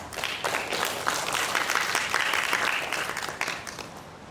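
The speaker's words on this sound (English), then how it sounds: "Please give Dr. Chen another big round of applause." An audience at an international academic conference claps for a presenter, a dense, even round of applause from many hands, fairly close and steady for several seconds before tapering off, with no speech over it.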